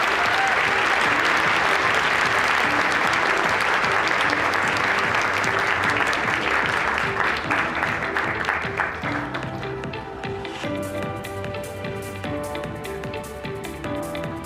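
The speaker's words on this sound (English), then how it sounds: "Let's give Caitlin another big round of applause." Loud, sustained applause from a large crowd at the White House Correspondents' Dinner, many hands clapping at once, slowly thinning toward the end.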